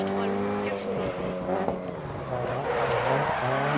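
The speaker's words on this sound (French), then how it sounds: "Vous avez entendu d'ailleurs les pneus qui ont fait un sale bruit" In a snowy Dirt Rally race, a rally car's engine drones steadily close up while its tires squeal and scrub under hard braking and handbrake. Someone talks over the continuous engine sound.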